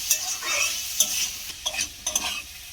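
Spices cooked with chilli powder in a few spoonfuls of oil, stir-fried in a pan, with a loud sizzle broken by repeated scraping strokes of a spatula and light clinks against the pan.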